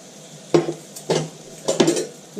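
A utensil stirs onions frying with garam masala in a pan, scraping and clacking against the metal in three or four distinct strokes over a faint, quiet sizzle, close up and without talk.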